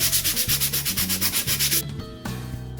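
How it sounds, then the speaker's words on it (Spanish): Sandpaper rasps by hand across the outside of a craft piece, a notes board made from recycled junk, in a quick, even rhythm of about a dozen close, loud strokes before it slows and stops. "Lijamos también esta parte por la parte de afuera"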